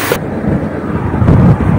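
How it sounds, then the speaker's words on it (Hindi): Heavy rain pours with a deep thunder-like rumble, a loud dense roar after a brief louder burst at the start, steady to the end. "ये रही फुल हैवी वाली बारिश हो रही है यहाँ पे"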